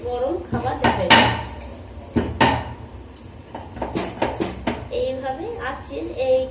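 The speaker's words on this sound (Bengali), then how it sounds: "এই যে আবার আদা থেতো করে দিচ্ছি" Ginger being crushed for cooking, sharp knocking and pounding strikes on a hard surface in uneven bursts, with a person talking over the work close by.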